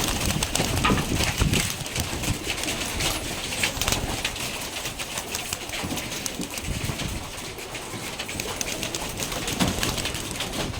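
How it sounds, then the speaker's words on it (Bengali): Pigeons coo softly under a dense, noisy background of rustling and fluttering, fairly continuous and somewhat distant. "অনেকগুলো কবুতর"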